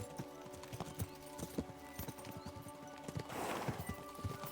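Horses gallop in Kingdom Come: Deliverance II, their hooves clip-clopping in a steady, fairly close rhythm, with a brief rustling swell near the end.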